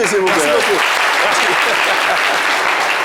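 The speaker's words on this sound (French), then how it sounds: "Applaudissements pour lui" A studio audience breaks into dense applause for a guest on a live call-in radio show, steady and close throughout, with a host speaking briefly over the start.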